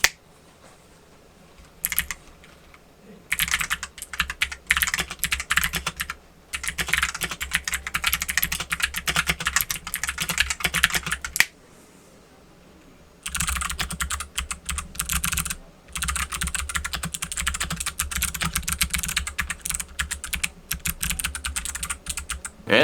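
Clicky mechanical keyboard switches clatter in fast, dense typing bursts, crisp and close, with two brief pauses, and no voices.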